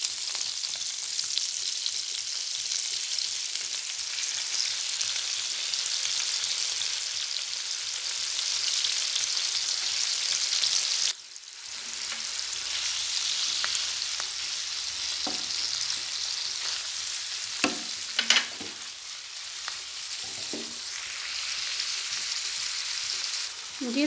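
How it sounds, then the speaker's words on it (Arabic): Chicken breast fries in melted butter and margarine, giving a continuous bright sizzle that briefly drops out, then returns with a few scrapes and knocks from stirring near the end. "شويه تاع زبده هنايا، شويه مارغرين نذوبها، نطيب فيها هذا"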